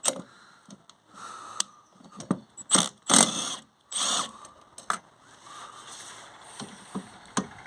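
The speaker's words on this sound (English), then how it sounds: "first I'm going to have to remove the wiper arms here using a 14mm socket" A 14mm socket ratchet works loose the wiper arm nuts on a Hyundai i30, giving uneven bursts of clicking pawl and metallic clatter with short pauses between strokes, close and moderately loud.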